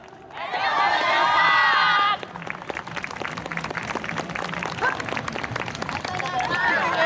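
Festival crowd cheering and applauding after a dance performance, with a loud burst of cheers first, then sustained clapping and scattered shouts mixed with babble.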